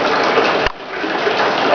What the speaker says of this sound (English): we pump it right up there into that big tank